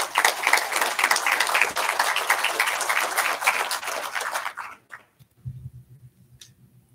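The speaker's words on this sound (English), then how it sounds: "So let's give Joey another round of applause." Audience clapping fills a commission meeting room with a dense, steady wash of applause for several seconds, then trails off into scattered claps and quiet.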